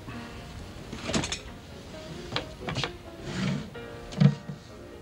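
Top right-hand drawer of a desk in a period detective drama being slid open, a few soft wooden scrapes and knocks, close and fairly quiet, with handling thuds between them.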